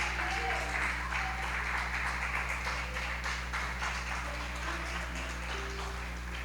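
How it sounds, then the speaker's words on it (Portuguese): Church congregation applauding with joy, a soft continuous patter of many hands over a low steady hum, evenly sustained and fairly faint throughout. "Você pode dar uma glória a Deus e aplaudir o Senhor com bastante alegria?"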